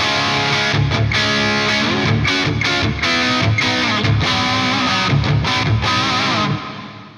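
Electric guitar played through a Bricasti-style stereo reverb patch on a POLY Verbs pedal, sustained chords ringing with a long lush wash of reverb that fades out at the end.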